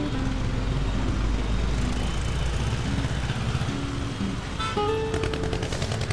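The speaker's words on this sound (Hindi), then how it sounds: "ये दिख रहे हैं, ये बड़े बड़े ट्रक आते हैं।" Large trucks pass on a busy city road and make a loud, continuous engine roar and rumble close by; harsher rattling and tonal engine noise build up near the end.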